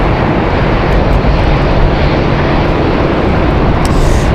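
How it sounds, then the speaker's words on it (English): Southwest flight 2188 takes off with a loud, dense jet roar that stays constant and close, filling the whole span without a break. "Wheels up still for Southwest 2188"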